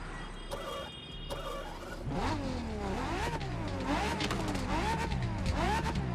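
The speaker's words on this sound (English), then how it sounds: "Another crazy exhaust crackle on this" A twelve-cylinder car in The Crew Motorfest revs and shifts up and down, its engine tone rising and falling repeatedly with a crackling exhaust beneath, loud and close.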